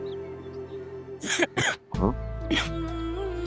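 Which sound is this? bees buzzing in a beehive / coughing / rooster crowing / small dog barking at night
coughing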